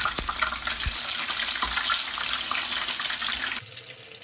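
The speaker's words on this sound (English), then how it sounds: "Fry the egg until they get the golden color and crispy." Thai omelette with minced pork frying in a pan until golden and crispy makes a loud, continuous hissing sizzle up close that drops to a quieter hiss near the end.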